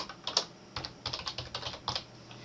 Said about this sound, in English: I'm just going to type in the password that I put in